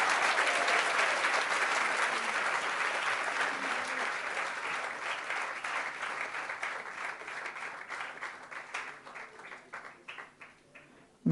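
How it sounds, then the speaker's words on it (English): Dense, sustained clapping from a large audience at a Krishna Janmashtami morning class, loud at first, then gradually thinning into fewer, more distinct claps as it tapers off. "A loud round of applause"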